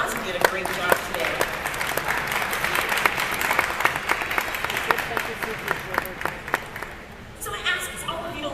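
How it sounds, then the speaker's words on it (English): An audience applauds with dense, steady clapping for several seconds before it fades out, then a voice begins speaking. "so let's give Echo a big round of applause"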